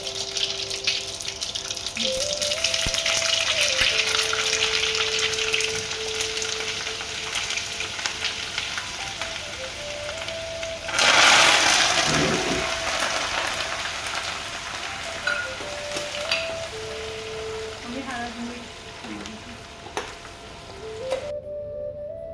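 Ingredients for poha chivda sizzle in hot oil, a loud, continuous close-up fry that surges near the middle when more goes into the pan, then settles. Faint background tones run underneath.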